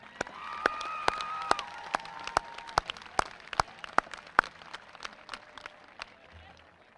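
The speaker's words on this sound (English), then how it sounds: "Let's give him a round of applause, please." Scattered, sparse clapping from a commencement audience at a high school graduation, with individual sharp claps standing out over a faint background, thinning toward the end.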